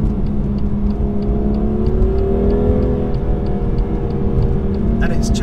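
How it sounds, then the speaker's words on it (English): Induction roar from a BMW M2 engine with no insulation under the bonnet, a steady loud droning hum that rises slightly in pitch as the car accelerates, heard from inside the cabin. "sound of the induction noise from the engine, because you've got no insulation under the bonnet"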